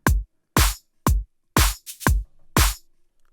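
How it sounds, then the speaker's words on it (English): A MIDI-triggered shaker percussion sample plays as sharp, loud, evenly spaced hits roughly every half second, each a bright burst that decays quickly, alone with no voices. "Nope, don't like that shaker at all."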